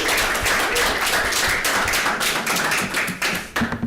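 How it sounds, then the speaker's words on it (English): An audience at an industry panel session on rentals gives the panelists a warm round of applause: dense, continuous clapping from many hands that holds steady and then thins toward the end. "Just a quick round of applause to our panelists already."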